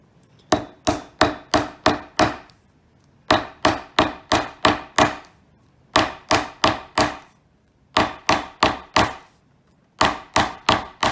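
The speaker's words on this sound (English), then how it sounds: "We're going to turn that over upside down on my leather there with a flat face hammer" Sharp, hard taps of a smooth flat-face hammer striking leather come in quick bursts of about five to seven blows, separated by brief pauses, close and loud.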